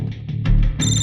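A telephone rings in an office with a close, bright electronic trill that swells near the end. No one speaks over the ring.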